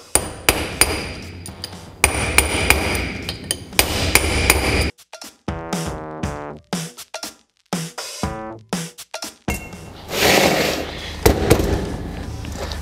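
A BMW E46 M3 differential is struck to free its crown gear during a viscous-to-clutch limited-slip conversion: loud, sharp metallic hammer blows ring out in rapid bursts, separated by pauses and scattered clanks.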